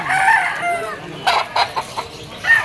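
A yellow-legged rooster at a market clucks in a short burst of sharp, close calls, a few quick broken notes after a brief opening call, with faint background noise.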